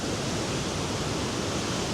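A muddy, rain-swollen waterfall on the Four Waterfalls Trail in the Brecon Beacons roars as a steady, dense rush of falling water, close and loud throughout with no voices.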